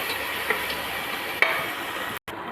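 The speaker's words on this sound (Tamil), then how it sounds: "இப்போ வெங்காயத்தை நல்லா வதக்கி வச்சுக்கலாம்" Onions sautéing with salt in a pan for a mushroom masala, a steady close sizzle running throughout with a couple of sharp clicks and a brief cut near the end.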